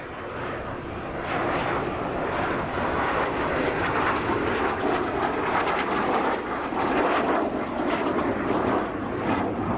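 A MiG-17F Fresco jet fighter flies a display at an air festival, its engine a loud, continuous roar that swells and rumbles steadily overhead with no break.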